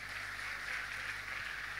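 A church congregation gives a round of applause for the Batak people, a faint, steady wash of many hands clapping from a distance, with no voices over it.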